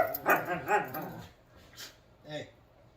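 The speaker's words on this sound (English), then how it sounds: "sorry for the loud dogs in the background." Several dogs bark in the background of a garden with seedling planters, a quick cluster of sharp barks followed by a couple of softer, separate yips at moderate distance.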